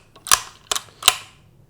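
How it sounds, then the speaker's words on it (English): The bolt of a No.4 Lee Enfield rifle converted to .223 Remington is cycled, making three sharp, close metallic clacks in quick succession, each with a brief ringing tail. "That actually drags on the bolt, which makes it a little bit stickier. But as you can see, it's still pretty quick."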